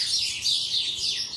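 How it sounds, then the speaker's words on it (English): A bunch of birds chirp and squabble outdoors in quick, overlapping high calls that rise and fall in busy waves. "There's a bunch of birds"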